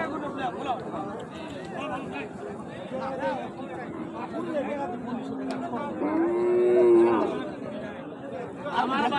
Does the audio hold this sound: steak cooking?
no